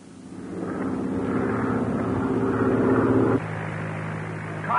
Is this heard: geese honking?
no